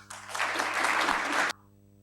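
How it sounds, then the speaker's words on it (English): An audience at a CELAC and FAO gathering breaks into a burst of applause, loud and steady clapping lasting about a second and a half before stopping abruptly. "Let us give him a special round of applause."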